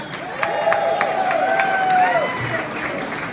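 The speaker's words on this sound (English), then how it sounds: "avec encore une ronde d'applaudissements" A crowd applauds a new Liberal Party of Canada president at a garden party in Ottawa, with steady clapping under a speaker's amplified voice.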